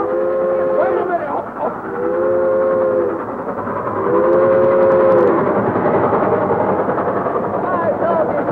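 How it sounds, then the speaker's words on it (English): A train rolls along with a loud continuous rumble while its whistle sounds in three long blasts, and people shout excitedly over the noise. "Well, stop the train!"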